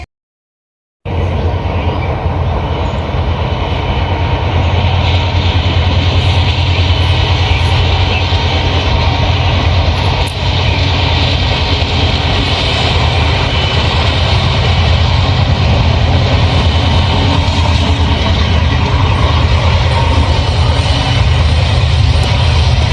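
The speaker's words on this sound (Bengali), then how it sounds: "ট্রেনটা আজকে খুব ধীর গতিতে যাইতেছে" A continuous loud, low rumble of a train passing slowly nearby, droning without pause for the whole stretch and no speech.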